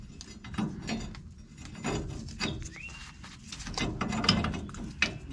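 A ratchet wrench torques nuts on a Hellwig EZ-990 helper spring bracket on the rear differential housing of a 1989 Chevy K1500, with repeated close clicking pawl strokes in short runs and faint birdsong in the background.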